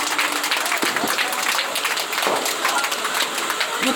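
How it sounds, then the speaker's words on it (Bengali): A crowd claps warmly at a Kali Puja felicitation, a dense continuous round of applause with some voices mixed in. "একটু হাততালি"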